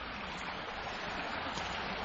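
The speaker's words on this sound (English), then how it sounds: "It's nice today because of the rain last night, so the waters are all up high" A river running high after overnight rain rushes along in a steady broad wash of flowing water, constant and moderately distant, with no voices over it.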